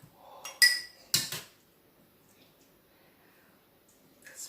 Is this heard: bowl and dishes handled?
yes